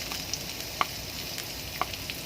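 Onion frying in a pan for spicy Indomie soto noodles gives a soft, steady sizzle broken by a few light clicks and taps of a utensil against the pan; no voices.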